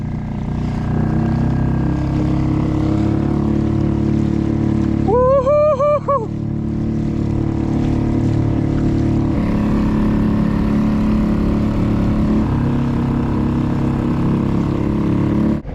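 A motor pushes a kayak across the water at full throttle, a loud, steady, close droning rumble with water rush that runs unbroken throughout, interrupted briefly around the middle by a short, wavering high-pitched whine.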